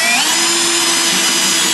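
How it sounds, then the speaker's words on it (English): A drill spins a Forstner bit into wood with a loud, steady motor whine and a constant high hum for a couple of seconds, close up and without talk. "when you're using a Forstner bit,"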